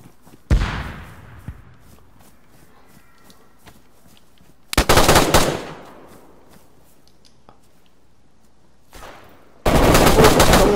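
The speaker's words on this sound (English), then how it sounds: "Someone else is sniping at me." Sniper gunfire in the DayZ video game: loud, sharp gunshots with long echoing tails, a single crack followed by a harsh burst, a faint distant shot, and another burst at the end.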